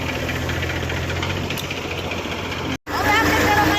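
A farm tractor engine, a Massey 8775 or New Holland 3630, runs in a field with a loud, continuous rumbling knock, broken by a brief dropout near the end.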